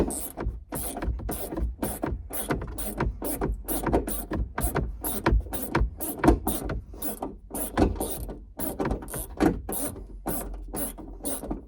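A ratchet unbolts 9mm screws on a Ford Ranger extra cab roof with a quick, steady run of sharp close clicks, the rhythm broken by short pauses between strokes.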